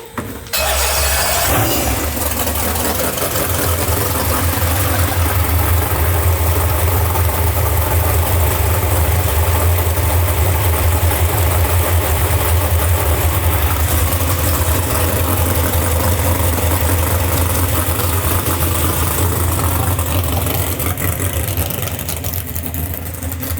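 Chevy 632 cubic inch big-block engine in a boat, which ran poorly last season, fires up and settles into a loud, steady, deep idle that holds for about twenty seconds with no talking.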